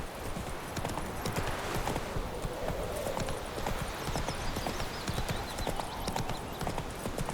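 The horse Roach gallops in The Witcher 3, with fast rhythmic hoofbeats driving steadily throughout and a faint whinny mixed into the game's ambient sound.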